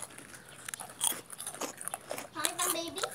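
Child chewing crunchy food loudly, close crackling bites and crunches in irregular bursts, with soft voices and a brief tone in the background.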